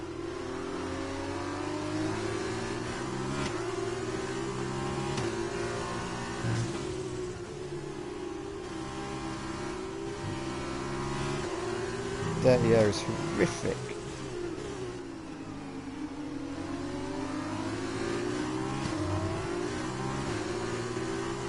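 F2 2020 race cars in the F1 2020 game, engines revving high and shifting through gears, with a sharp clatter near the middle, all under steady commentary from a man.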